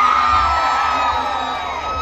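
An Assamese audience at a Bohag Bihu farewell celebration cheers and shouts, a dense sustained crowd roar with whoops, loud and continuous throughout.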